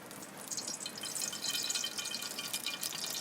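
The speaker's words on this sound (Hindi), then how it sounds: "यहाँ पर घी या ऑयल को हम डाल देंगे" Ghee or oil poured into a cooking pot for a chicken and potato curry, giving a steady, moderately close liquid hiss and trickle for about three seconds with no talking.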